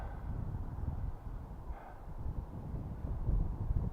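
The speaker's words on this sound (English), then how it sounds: "Just wait for the gust to die down." Wind gusts buffet the microphone outdoors at a field where a cardboard stunt glider is being flown, a steady low roaring rumble that swells and eases throughout without any speech.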